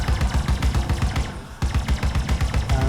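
Ship cannons fire in rapid automatic bursts in the space game Star Citizen, loud punchy repeating thuds with a brief pause midway before the volley resumes.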